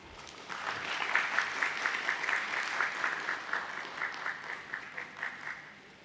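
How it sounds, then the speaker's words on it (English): Audience applause at a company's stock listing ceremony, a steady round of clapping from a moderately sized crowd that swells and then gradually fades. "Can we have a huge round of applause?"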